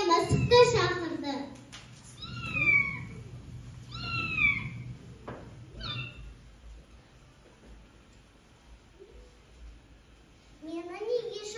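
A cat meows several times in drawn-out, rising and falling cries, with a voice talking in between and over the calls, close and fairly clear.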